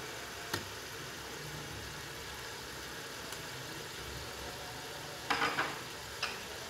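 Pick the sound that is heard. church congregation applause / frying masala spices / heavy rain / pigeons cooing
frying masala spices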